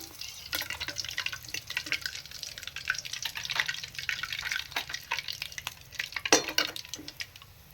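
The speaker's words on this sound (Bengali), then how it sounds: "এইভাবে আমি বাকি যেগুলো আছে সেগুলো ভেজে নিচ্ছি" Papdi bowls for bati chaat frying in hot oil give off a close, fairly quiet, continuous sizzle scattered with small crackles and pops.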